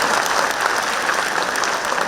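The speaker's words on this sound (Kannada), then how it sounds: "ಬರಲಿ ಚಪ್ಪಾಳೆ" Dense, steady applause from an audience at a university inauguration, loud and sustained throughout without a break.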